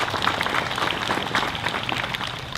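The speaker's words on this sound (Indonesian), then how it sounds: "Tepuk tangan untuk Pak Wakil Bupati." A crowd at a religious lecture gathering in Aceh applauds the deputy regent with a thick, continuous patter of many hands, moderately loud and unbroken for a couple of seconds.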